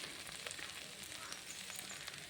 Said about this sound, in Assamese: হাঁহৰ মাংস ভাজি হ'ব আৰু